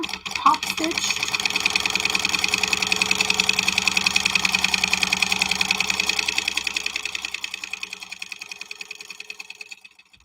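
A sewing machine runs continuously, top stitching fabric with a fast, even mechanical chatter. It starts after a brief click, holds steady at close range, and slows and fades out toward the end.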